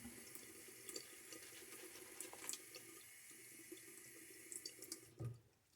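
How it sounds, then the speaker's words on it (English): A bathroom faucet lets a thin stream of water dribble into the sink while wet shaving, a steady soft trickle with a few small splashes and one louder gurgle near the end. "And I'm going to take some dribbles from the faucet."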